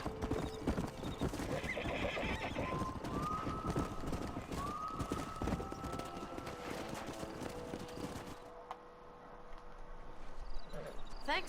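A stallion in Red Dead Redemption gallops with fast, loud hoofbeats and lets out several rising whinnies. The hooves fade near the end, with faint talk around them.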